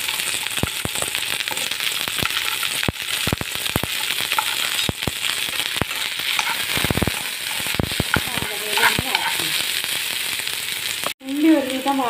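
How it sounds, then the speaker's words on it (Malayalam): Onions sauté in a pan with fried chillies for a coriander and curry leaf chammanthi, giving a loud, continuous close sizzle dotted with sharp crackles and pops. A voice speaks briefly at the very end. "അപ്പോൾ അതിലേക്ക് ഈ ഉള്ളി, ഉള്ളി ഒന്ന് വാട്ടി വെക്കണം."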